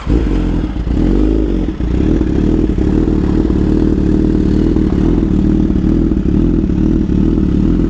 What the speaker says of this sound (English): Turn the bike on.